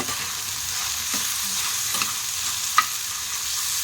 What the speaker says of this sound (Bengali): সবগুলোকে আমি দিয়ে মশলার সঙ্গে আবারও খুব ভালো করে ভেজে নেব